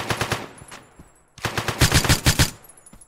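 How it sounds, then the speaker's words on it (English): Rapid automatic gunfire in a video game, with two close, loud bursts of evenly spaced shots separated by a brief pause. "I shot you 10 times."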